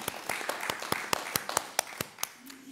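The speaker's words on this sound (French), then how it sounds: "On peut s'applaudir." A small group claps at a town council meeting, sparse distinct hand claps in an uneven rhythm, fairly close and moderate, with a faint voice near the end.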